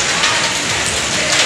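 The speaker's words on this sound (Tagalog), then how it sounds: "Ayun ang naulan." Rain falling steadily on surfaces outside a school in Tacloban, a continuous hiss of drops heard close and alone for a moment.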